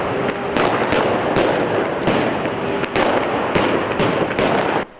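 Protesters in a clash with riot police hurl firecrackers, loud sharp bangs cracking out roughly every half second over a constant roar of crowd noise and hiss.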